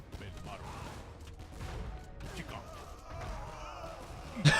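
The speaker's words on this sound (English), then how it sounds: "We have more organ guns killing chakrams on the right." Organ guns fire in a real-time strategy battle in Age of Empires, a faint scattered crackle of volleys and impacts running beneath a commentator's steady talk.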